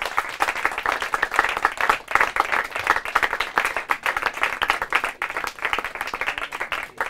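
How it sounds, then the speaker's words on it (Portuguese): Audience applause for the finalists at the final round of a Portuguese-language competition, a steady burst of many hands clapping close by that carries on for the whole stretch with no voices over it. "Uma salva de palmas, uma última vez, para todos eles."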